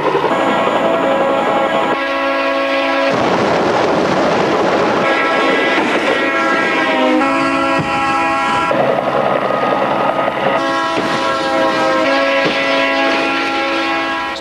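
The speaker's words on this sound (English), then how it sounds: "how deceiving it can be to see a train coming down the tracks" A train approaching down railroad tracks, loud and sustained, with a blaring multi-tone horn sounding continuously over a rumbling rail roar.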